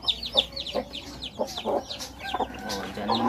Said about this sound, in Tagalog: Siyam na sisyu.